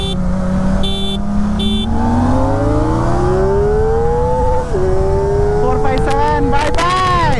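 Two sport motorcycles, an Aprilia RS 457 and a Kawasaki Ninja ZX-4R, drag race from a rolling start, with loud engines revving and rising steadily in pitch through the gears, nearby and continuous.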